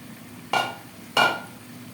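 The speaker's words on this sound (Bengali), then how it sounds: "এখন রান্নাটা ঘুরে দিতে হবে" Two separate scraping stirs of a spoon through taro (ol kochu) frying in a pan, each a short sizzling scrape about half a second apart, near and fairly quiet over a low hum.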